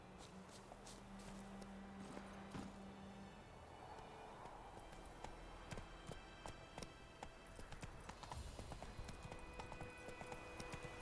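Geralt's horse Roach clip-clops along at a steady walking-to-trotting pace in The Witcher 3, the hoofbeats fairly close and continuous under faint game ambience.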